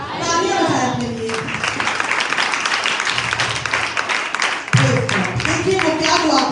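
Congregation clapping during a New Year Urdu sermon, a burst of scattered applause that swells in the middle while the preacher's voice speaks before and after it.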